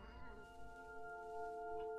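A cat meows faintly over steady tonal game music in What Remains of Edith Finch, a brief soft call.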